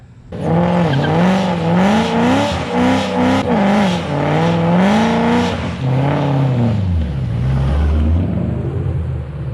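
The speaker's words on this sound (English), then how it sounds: "Gonna do a burnout." A 2007–2009 Shelby GT500 V8 revs hard in a burnout with repeated throttle surges and a loud, continuous roar, then drops into a lower falling tone near the end, with tire squeal mixed under the engine.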